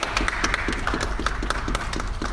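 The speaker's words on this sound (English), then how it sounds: "So if we could all give her a round of applause, I'd really appreciate it" An audience at a talk gives a round of applause, with dense, steady clapping close by and lasting the whole stretch at an even level.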